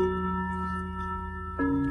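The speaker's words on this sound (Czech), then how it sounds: "A pro diváky je odsud zvonění." A theatre's backstage bell rings to call the audience to their seats before a performance, a steady sustained ringing tone that shifts pitch near the end, heard alone without talk.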